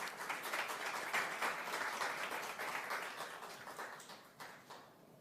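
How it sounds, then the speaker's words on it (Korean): Audience applause welcomes a presidential candidate onto the stage at a Korean political vision presentation, a broad continuous crowd clapping heard at moderate distance that gradually thins and fades toward the end. "박수로 환영해 주시면 감사하겠습니다."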